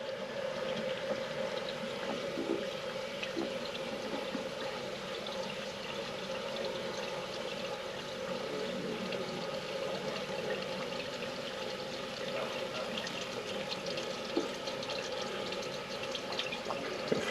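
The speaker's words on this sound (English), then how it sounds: "Flush again." A toilet being flushed during sewage trouble in a building with soiled walls and carpet, heard as a steady rushing of water that carries on evenly throughout, moderately quiet and with no talk over it.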